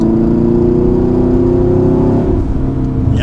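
Chevrolet Camaro SS muscle car pulling hard up a hill, a steady deep engine drone heard from inside, loud and continuous with rising tone.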